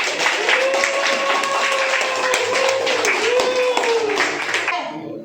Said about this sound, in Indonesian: Kita kasih aplaus buat Vicky.